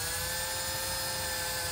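Drill starting a hole in a golf cart fender flare: a steady, loud high whine that holds unbroken throughout, with no talking.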